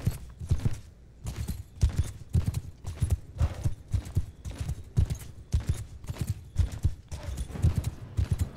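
Horses charging in the battle game Bannerlord thunder along in a steady, rapid stream of loud hoofbeats, close up, with faint clatter mixed in.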